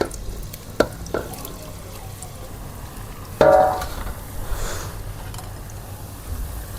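Fries dropped into hot oil, with chicken to follow, give a steady sizzling hiss punctuated by a few sharp clanks and one louder splash-like burst midway, with no voices.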